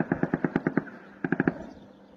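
Rapid bursts of automatic gunfire ring out from somewhere near a campsite on Corsica: one long rattling burst of about seven shots, a pause, then a shorter burst of four, fairly distant and echoing.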